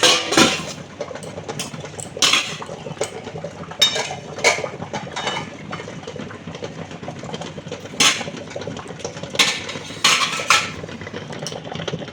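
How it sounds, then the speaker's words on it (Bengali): A cooking pan of Narkeli Pabda, pabda fish in coconut gravy, is shifted off a stove with repeated metallic clanks, scrapes and rattles, close and busy, with no voices. "এবার নামিয়ে দিচ্ছি।"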